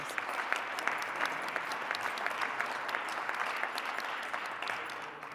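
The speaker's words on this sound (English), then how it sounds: "Let's give them a round of applause for their birthdays." Rotary club members applaud birthdays at a meeting, a fairly quiet, steady round of clapping from a modest room with crisp individual claps, continuing throughout and tapering slightly at the end.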